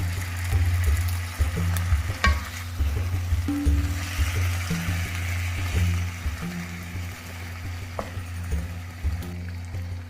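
Pink sauce pasta being stirred in a frying pan, with a steady close sizzle and scraping of the utensil against the pan, occasional clinks, no talking.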